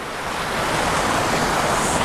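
Steady, dense rush of the Grenjengan Dowo waterfall, a broadband roar of falling water heard close and continuous with no voices.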